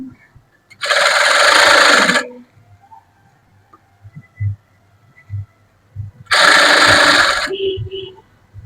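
Two short bursts of sewing machine stitching through fabric, each about a second long and separated by a pause, with handling clicks and a soft voice in between.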